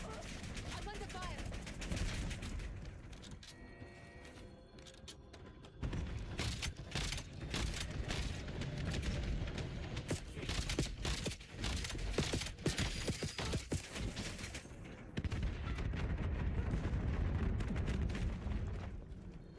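Call of Duty gunfire during a multiplayer match: bursts of rapid automatic shots and sharp cracks come in dense clusters across the span, loud and close, with a player talking over the action at times.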